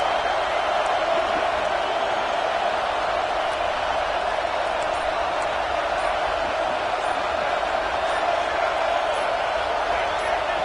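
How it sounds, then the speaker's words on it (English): A college football stadium crowd roars for the home defense at a UTSA versus Texas A&M game, a loud, steady, unbroken wall of noise that holds throughout without swelling or fading. "Listen to this crowd just shaking the girders of this place, trying to help their defense."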